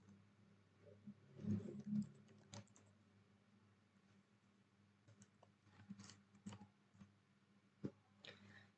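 Commands being typed on a Linux computer keyboard, with faint, scattered key taps in short clusters and pauses between them, close but quiet, over a low steady hum.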